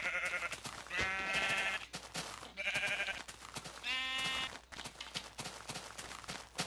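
Sheep in the Minecraft video game bleat in three distinct wavering calls, spaced about a second and a half apart, loud and close over a busy game background.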